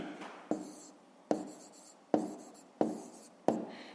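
Pen or pencil writing by hand during a fifth-grade maths exercise, heard as five distinct scratchy strokes at a steady rhythm, each a sharp onset trailing off, close and clear with no talk.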